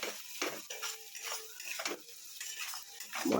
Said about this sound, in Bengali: একটু চিকেন রান্না করছি।